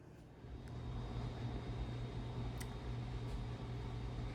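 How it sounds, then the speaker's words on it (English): Steady low mechanical hum and rumble of an appliance running throughout, with a faint tonal whine and no talking. "sorry if you can hear my dryer going in the background"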